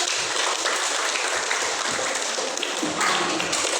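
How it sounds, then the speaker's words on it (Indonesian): Dense, continuous applause from a group of students clapping together in a classroom, steady and loud throughout with no pauses. "Terima kasih tepuk tangan dulu."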